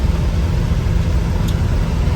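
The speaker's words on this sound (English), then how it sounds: "We're cruising down the highway about 55 miles an hour." Steady, loud road noise from an International Harvester Scout cruising on a highway at about 55 mph, a continuous low rumble of engine and tires with no talking.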